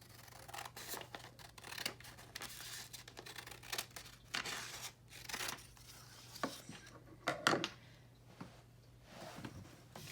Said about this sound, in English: take the pair of scissors and cut the extra part off